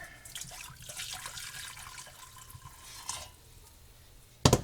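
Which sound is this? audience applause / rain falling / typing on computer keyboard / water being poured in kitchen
water being poured in kitchen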